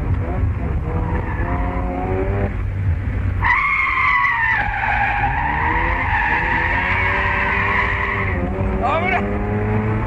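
A turbocharged car drifts using the handbrake, its tires squealing in a long sustained skid over steady engine noise, with a second shorter squeal near the end and someone talking throughout.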